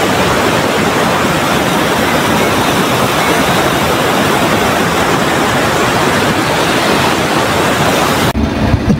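River water rushes at Balanac Dam in Magdalena, Laguna, a loud, continuous broadband roar that holds steady for several seconds before cutting off abruptly near the end.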